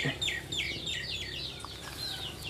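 A Japanese Phoenix rooster makes repeated high, chirpy clucking calls, a quick series of short, bright notes close by over a faint background murmur.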